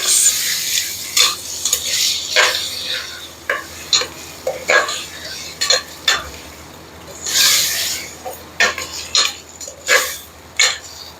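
Spoon scraping and stirring through a frying pot as black pepper and dried thyme are mixed in, repeated metallic scrapes and clinks over a low sizzle, with a brief voice now and then.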